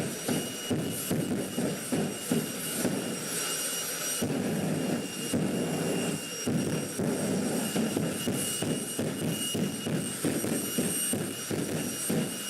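Jet-powered funny car dragster at the Santa Pod quarter-mile strip, its jet engine roaring steadily with repeated surging pulses as the afterburner is tapped, loud and continuous throughout with no talk.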